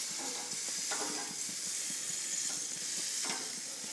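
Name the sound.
venison summer sausages sizzling on a grill as they are flipped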